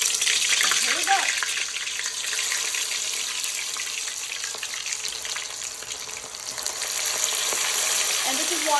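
Calamari deep-frying in a deep dish of hot oil, a loud, steady close-up sizzle and crackle running throughout with only slight swells and dips.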